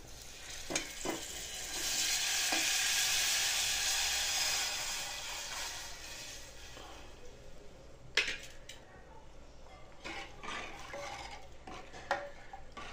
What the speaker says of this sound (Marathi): आता हे ताक घालून घ्यायचं.